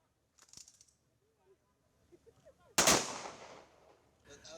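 A 21-gun salute at a Philippine Independence Day ceremony in Plaza Independencia, Cebu, heard as a single loud rifle volley that echoes and rings out, with faint crowd noise and a few soft sounds before it.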